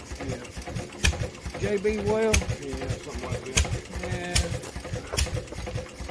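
A rusty Maytag Model 92 hit-and-miss engine sits running nearby, its repeating mechanical chuffing steady beneath close conversation between men throughout.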